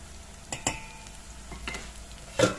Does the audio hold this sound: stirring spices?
yes